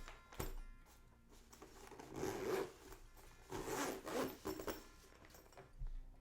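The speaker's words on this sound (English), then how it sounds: "trying to close this zipper when it's wobbly in this manner can be challenging" A wobbly child's zipper rasps in short, halting pulls, quiet and close, with a couple of soft knocks and pauses between strokes.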